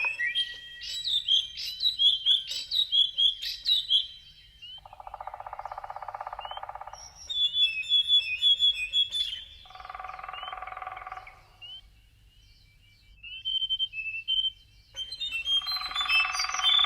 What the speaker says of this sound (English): the performers, they should be imitating the bird sounds from the CD as best they can